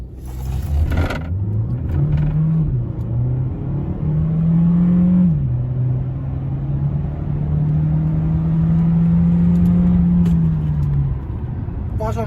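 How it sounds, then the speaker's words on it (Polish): A 2015 Volkswagen Touran minivan with a 150-horsepower engine accelerates from a standstill in normal drive mode, its pitch climbing through a gear change and holding strong and close for several seconds. "zobaczymy jak ona przyspiesza"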